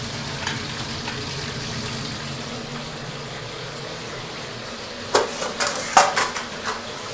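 Chicken wings marinated in soy sauce and starch sizzle and stir-fry in a wok, a steady crackling hiss with a few clanks of a utensil against metal near the end.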